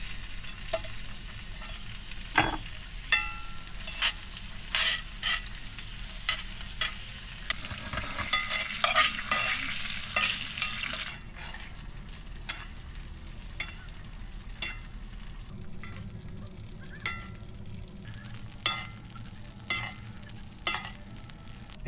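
Steak fries in butter in a pan in a van kitchen, with a loud continuous sizzle, spattering crackles and the scrape of stirring or basting throughout. No one speaks.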